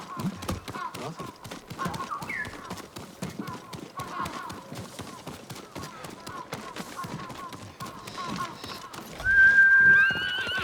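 In Ghost of Tsushima, a horse's hooves clip-clop steadily at a moderate pace, ending in a loud whinny, with voices speaking over the hoofbeats.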